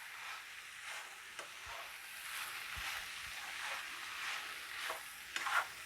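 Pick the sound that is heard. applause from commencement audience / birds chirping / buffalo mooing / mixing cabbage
mixing cabbage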